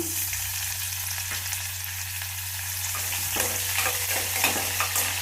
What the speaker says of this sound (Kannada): ಇದು ಸಾಸಿವೆ ಜೀರಿಗೆ ಆಗಿದೆ ಈಗ ಈರುಳ್ಳಿ ಹಾಕ್ಕೊಳ್ತೀನಿ ಇದನ್ನು